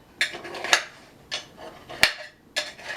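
A metal knife cuts into a pan of cooled chocolate apple nut brownies, giving four or five distinct scraping clinks against the pan spaced about half a second apart, close and fairly quiet with no talking.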